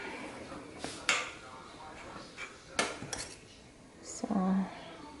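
Batter scooped into a Norpro cast iron ebelskiver pan, with sharp metal clinks and scraping taps from a utensil against the pan, scattered at irregular moments among stretches of talking.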